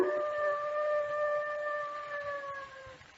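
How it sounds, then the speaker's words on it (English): A dog howls as a radio drama sound effect: long, sustained wavering tones that hold for about three seconds and slowly fade, with a low background rumble beneath. "That sounded like a dog howling."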